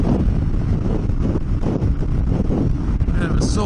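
Strong wind roars and buffets the microphone while riding off-road, heading east toward the Victorian–South Australian border; the rumble is loud and continuous, with a faint tonal whine near the end.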